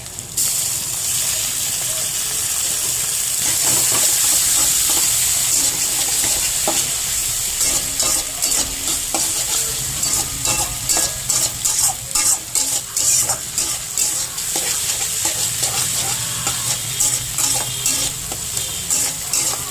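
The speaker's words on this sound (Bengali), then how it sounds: "একটু ভাজবো সব কিছু। এবারে টমেটো দিয়ে দেবো।" Vegetables with added tomatoes sizzle loudly in a pan while being stirred, with rhythmic scraping strokes and a bright, continuous hiss close up; no one speaks.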